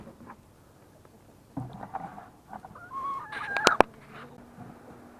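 A loose, escaped backyard chicken clucks in a few short bursts, mostly in the second half, fairly close and moderately loud over quiet outdoor background.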